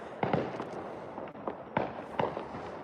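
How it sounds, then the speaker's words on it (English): Firecrackers popping in every direction outdoors on a dark night, heard as scattered sharp cracks and bangs at moderate distance over a low background rumble. "They are literally popping firecrackers every direction."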